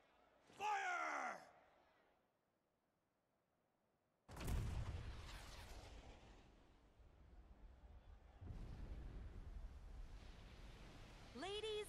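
A Junon cannon blast in Final Fantasy VII Rebirth: a brief voice, a moment of silence, then a sudden, loud, booming blast that trails into a long rumbling roar. A voice returns at the very end.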